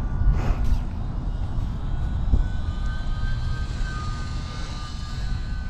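A small E-Flite UMX Waco RC biplane with brushless electric motor runs at about half throttle in windy conditions, giving a steady, moderately loud motor drone with a faint whine throughout, mixed with wind noise.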